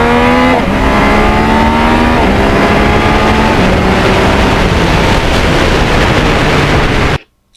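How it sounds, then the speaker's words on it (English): Yamaha MT-09 motorcycle ridden hard in first gear, engine note rising in steps through the revs with stuttering dips as traction control cuts in, loud and close under steady wind rush, then stopping abruptly near the end. "you could hear the traction control cutting in first gear"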